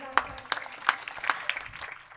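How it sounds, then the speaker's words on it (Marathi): Short burst of audience clapping for the lead singer at a devotional kirtan, scattered claps under a speaking voice. "टाळी वाजवा गायनाचार्यासाठी एकदा जोरदार"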